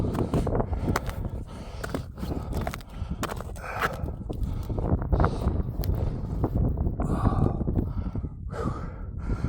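Chilly wind buffets the microphone on a mountain climb up Scafell Pike from Wasdale Head, a steady roaring rumble with gusts rising and falling throughout.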